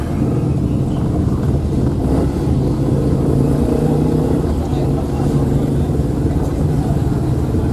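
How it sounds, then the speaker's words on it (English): Town street traffic, with cars and engines in a crowded, slow first-gear town, gives a loud, steady rumble close by, joined by wind buffeting and a little talk. "Look at all the traffic out here."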